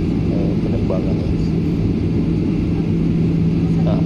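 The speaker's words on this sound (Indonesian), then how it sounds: "Sekarang posisi pesawat kita itu bersiap untuk lepas landas ya" Inside an airplane readying for takeoff at Djalaluddin airport, a loud, steady engine roar and cabin rumble hold constant, with a faint tonal hum running beneath.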